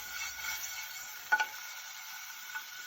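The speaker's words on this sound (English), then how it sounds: "we're gonna add our minced garlic to our pan. And we're gonna saute this." Minced garlic sautés in a hot pan for a risotto, a faint steady sizzle with a couple of soft clinks from a utensil partway through.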